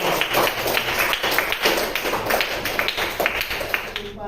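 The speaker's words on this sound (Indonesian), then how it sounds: "Tepuk tangan untuk kita semua." A class of students clapping together in a classroom, a dense, continuous patter of many hands at moderate loudness lasting a few seconds before fading at the end.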